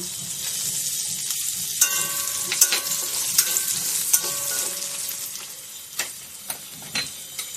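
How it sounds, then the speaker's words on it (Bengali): Dried red chillies, whole cumin, peppercorns, cardamom, cinnamon and cloves sizzle steadily in hot oil, a continuous bright crackle with a few sharp taps and stirring clinks, close and alone with no voices. "তেলটা গরম হয়ে গেছে, এবার আমি দিয়ে দেবো দুটো শুকনো লঙ্কা, গোটা জিরে, গোলমরিচ, দুটো এলাচ, দারুচিনি, লবঙ্গ।"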